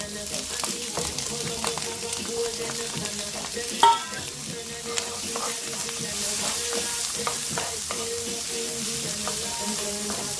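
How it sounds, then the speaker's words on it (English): Jackfruit and chickpeas sauté in a pan with a soft, steady sizzle, broken by occasional scrapes and clinks as the food is stirred. "we want to saute this until our jackfruit and our chickpeas get a little color"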